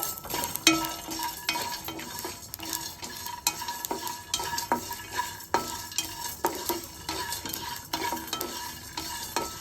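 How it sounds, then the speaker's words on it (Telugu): Whole spices frying in oil: coriander seeds, star anise, cloves, cardamom and cinnamon, crackling steadily up close with a busy rhythm of spoon stirs and scrapes against the pan, no voices. "ఒక స్పూన్ ధనియాలు కూడా వేసుకోవాలి స్టార్ పువ్వు లవంగ యాలకు దాచిన చెక్క వేసుకుని వేపుకోవాలి"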